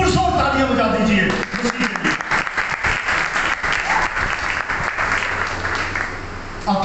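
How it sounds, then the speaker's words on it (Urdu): A church congregation bursts into loud, sustained applause during a sermon, dense clapping filling the room for several seconds, with a voice audible briefly at the start and end. "پرزور تالیاں بجا دیجیے"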